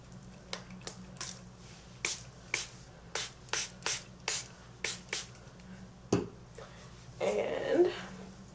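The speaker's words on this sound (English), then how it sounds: "I'm going to take my water and kind of spray just a little bit." A spray bottle spritzes water onto hair before braiding, about ten short, crisp bursts in an uneven rhythm, close and clear, followed by a brief rustle of hands in the hair.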